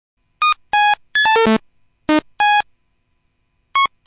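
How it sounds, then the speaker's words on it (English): Random bleepy MIDI synthesizer tones: short, bright electronic beeps jump between pitches in irregular bursts, including a quick descending run, loud and isolated with silences between. "we've just set up this really random little bleepy instrument here"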